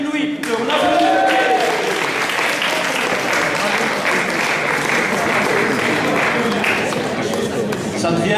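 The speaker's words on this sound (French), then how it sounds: "Ah, on t'applaudit quand même." An audience at a slam poetry contest breaks into loud, sustained applause, steady and dense throughout, with a voice briefly heard at the start.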